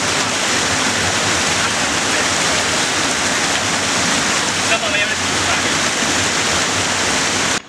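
At the Sepli waterfall in Okhaldhunga, Nepal, water roars in a dense, steady rush that stays loud and unbroken throughout, with voices faintly mixed in beneath the flow.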